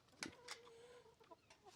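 Hens cluck softly in a coop in the morning, a few short clucks and a drawn-out warble, fairly faint and close, with no talking.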